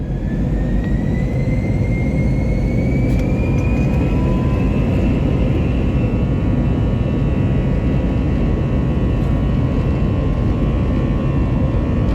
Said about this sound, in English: these CFM56 engines, like most other engines, need a couple of minutes to warm up before they are set to takeoff thrust